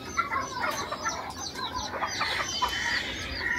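Malay fantail ornamental chickens, about seven months old, clucking in a small farm pen, several soft overlapping clucks and calls close by, fairly quiet.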